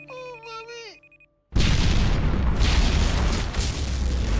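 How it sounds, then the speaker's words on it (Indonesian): A dam is blown up: a brief synthetic tonal cue with a falling pitch cuts to silence, then a sudden loud blast erupts into a sustained rumbling roar of debris and rushing force lasting several seconds. "Abigail ledakan bendungannya."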